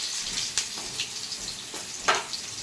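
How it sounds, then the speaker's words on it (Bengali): Potatoes fry in oil in a pan over cumin seeds and a dried red chilli, with a close, even sizzle broken by a few sharp crackling pops, and no voices. "এবার আমি আলুগুলো ছেড়ে দিচ্ছি।"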